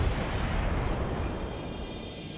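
Naval guns of the cruiser Kuma fire in World of Warships, one loud, rumbling broadband salvo that slowly decays over a couple of seconds.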